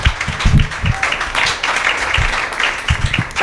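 Comedy club audience applauds and cheers at a Friday night showcase at Ari's Tavern, welcoming comedian Jen Kosheka to the stage; dense, steady clapping fills the room with a few louder bursts throughout.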